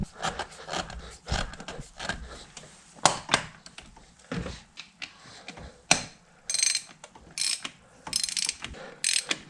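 A hand ratchet tightens a part back onto a 2016 Ford F-150 in a garage, giving rapid clicking bursts of pawl ticks with pauses between strokes, close and clear with no talking.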